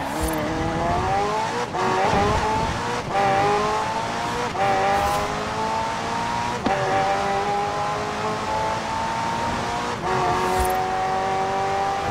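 A McLaren twin-turbo V8 hybrid sports car races in Forza Horizon 4, engine climbing steadily through repeated gear shifts with brief tire squeals, loud and continuous throughout.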